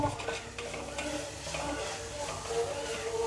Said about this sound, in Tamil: நன்றாக பொன்னிறமாகும் வரைக்கும் வதக்கணும்